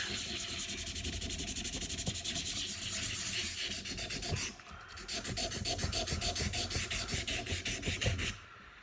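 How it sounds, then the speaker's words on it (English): Sandpaper rubs the finish off a golf club iron in quick, rhythmic back-and-forth strokes, close and steady, pausing briefly midway before resuming for a few more seconds, with no voices. "it doesn't seem to be as difficult to take this finish off as it did the test club. Maybe I am using a coarser sandpaper"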